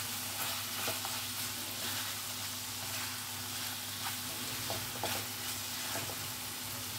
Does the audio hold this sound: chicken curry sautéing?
yes